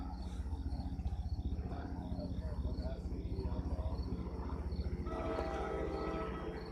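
A train rolls past a level crossing at Raritan, a steady pulsing rumble with a rhythmic mechanical beat and a high repeating crossing signal, heard from close by.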